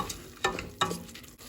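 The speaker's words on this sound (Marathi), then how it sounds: "मिक्स करतें" Brown rice being stirred in a pot makes a few soft, quick scraping strokes, faint and close, with a light sizzle underneath.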